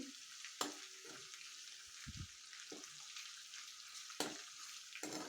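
Spices and oil sautéing in a pan for Maharashtrian puri bhaji, a steady soft sizzle with a few clanks and scrapes of stirring, close and fairly quiet, with no talking.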